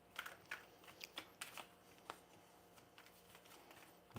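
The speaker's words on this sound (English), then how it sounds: "So I'm going to go ahead and begin and shuffle our cards here." Oracle cards being shuffled by hand in a quiet room, giving a series of soft, irregular riffling and slapping bursts that are faint and close.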